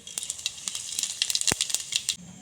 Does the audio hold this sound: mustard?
yes